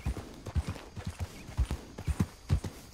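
Horse hooves clip-clop at a steady trot in a video game, a run of soft thuds against low background noise.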